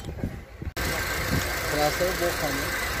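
A car engine idles with a steady mid-range hum and vibration, starting abruptly after a brief moment of other noise.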